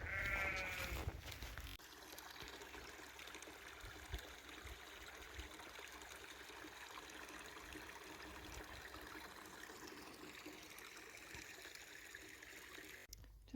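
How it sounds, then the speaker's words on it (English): A sheep in a field along the Pennine Way between Alston and Greenhead gives one brief, faint bleat at the start, followed by a long stretch of soft outdoor wind and stream noise. "These ones are in with some sheep."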